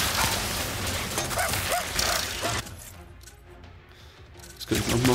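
Dogs barking and attacking in the Ratchet and Clank Rift Apart video game, with short barks and yelps over dense game effects before the sound drops away.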